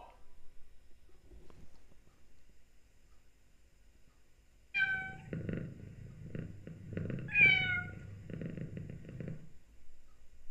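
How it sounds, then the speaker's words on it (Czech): A domestic cat meows twice in an animal-guessing game, each a clear close call, with a raspy purring, snoring-like rumble running between them after a quiet start. "Ano, správně, byla to kočka."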